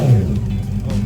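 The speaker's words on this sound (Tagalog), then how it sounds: "Yung tunog lang inline 4 natin." A 25-year-old Honda CB400 inline-four motorcycle engine revving nearby, giving a dense, smooth low growl with a falling pitch at the start, heard alone.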